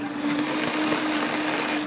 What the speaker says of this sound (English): Again, this is a man running a blender on the radio.